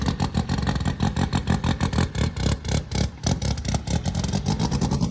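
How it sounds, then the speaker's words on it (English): A race car's engine held on a two-step launch limiter during IFO race prep, with the clutch being tested. It makes loud, close, rapid stuttering bursts of popping and revving that run steadily through the whole stretch with no talking. "hit the two-step a couple times, and test that out, and test the clutch"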